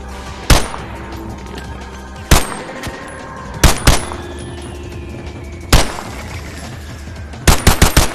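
Pistol fire in the VR game Bonelab: single loud, sharp shots spaced a second or more apart, ending in a quick burst of several rapid shots, close and clear over quiet ambient game sound.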